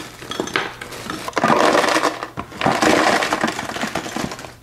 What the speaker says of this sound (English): We're gonna place 6 cups of the broken ice all around the canister and the bucket inside here.